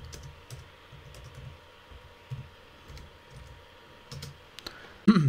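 Keyboard typing while entering a label into an Excel petty cash spreadsheet, a quiet run of soft key taps in loose bursts, ending in a louder clatter of keys.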